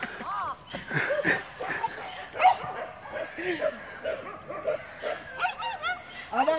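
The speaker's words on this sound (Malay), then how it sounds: "Apa? Anjing ah." Hunting dogs bark and yelp repeatedly during a wild boar hunt across rice paddies in Sijunjung, their calls coming in uneven bursts, mostly mid-distance, while people talk over them.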